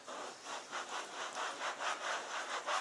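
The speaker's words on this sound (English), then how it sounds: "just wipe over the surface" A cloth wipes over a leather surface to lift grease and sweat build-up, giving a soft rhythmic rubbing swish in repeated strokes, close and alone.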